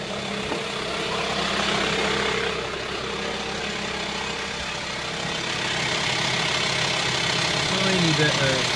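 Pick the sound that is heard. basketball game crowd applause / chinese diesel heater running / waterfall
chinese diesel heater running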